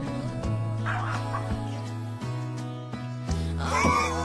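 A hairless dog yips and barks in short, sharp bursts, several rapid calls close by with whiny tones, indoors.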